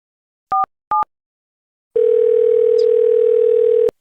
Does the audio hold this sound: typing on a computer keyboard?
no